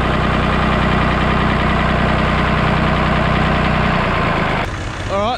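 Tractor engine running at raised revs, a loud, steady, close mechanical drone with a rough knocking texture, dropping away near the end as a voice begins.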